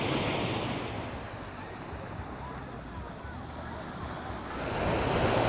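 Waves rolling onto a sandy beach in Aruba, a broad continuous wash of surf with wind buffeting the microphone, swelling louder toward the end.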